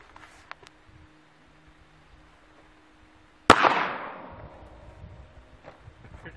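A single sharp .380 caliber pistol shot cracks out at about midway, loud and close, followed by a decaying ring and some rustling; otherwise quiet.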